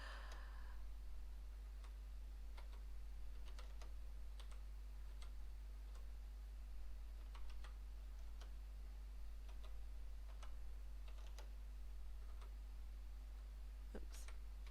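Keys on a Maltron one-handed keyboard click in sparse, irregular taps, quiet and close against a faint steady hum, without speech.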